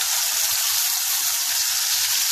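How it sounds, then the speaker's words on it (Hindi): Ground tomato and green chili sizzle steadily in hot oil, a loud, even hiss of frying with faint crackles and no talk over it. "अब जो हमने टमाटर पीस के रखा था और हरी मिर्च को इसमें डाल देंगे।"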